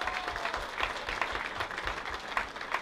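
Studio audience applause on a comedy show for a couple together 15 years, a brief moderate round of clapping from the crowd.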